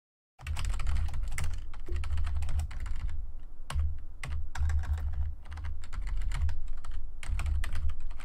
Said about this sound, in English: I am so not used to this other keyboard.